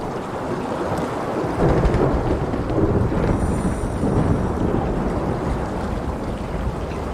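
Underwater thunder in the video game SOMA: a deep, muffled rumble that swells in the middle and then settles into a sustained roar, alone with no voices.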